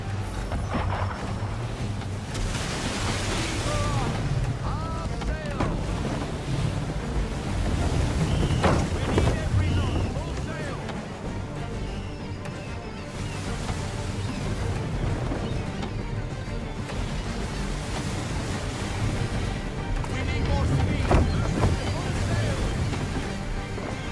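A sailing ship runs at full sail in Assassin's Creed III Remastered, with a loud, continuous rush of wind and surging waves that swells and eases throughout.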